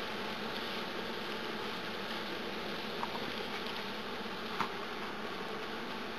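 Honey bee colony started from a small swarm, buzzing steadily from an open hive while powdered sugar is brushed between the frames; a dense, continuous drone with a couple of faint ticks.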